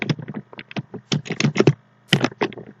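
Rapid typing of Python code on a computer keyboard, close and crisp bursts of key clicks with a short pause midway, no talk.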